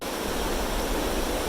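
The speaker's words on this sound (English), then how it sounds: "there's this river that goes right through town, and it's super strong" A strong river rushes through the town of Aguas Calientes in Peru, a steady, dense roar of water that holds even and loud throughout, with no voices over it.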